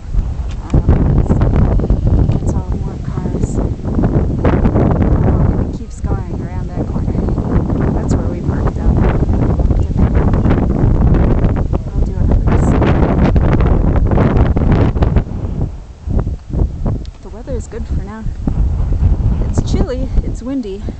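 Strong wind buffets the microphone on a high lava slope of Mauna Kea beside a patch of forest, a loud continuous roar with gusting surges throughout, and a person talks over it.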